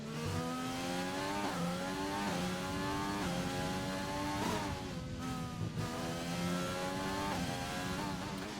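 Close engine note of a McLaren race car in the RSF1 racing game at Abu Dhabi, revving hard through repeated upshifts with rising pitch sweeps and brief drops, loud and continuous with no talking.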